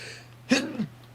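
A single sharp sneeze bursts out close and loud in a quiet room, a breathy onset followed by a short voiced tail, then fades back to near silence.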